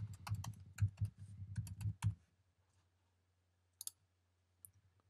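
Fingers type a password on a Mac keyboard in a quick, steady run of close key clicks for about two seconds, then a few isolated taps follow after a pause.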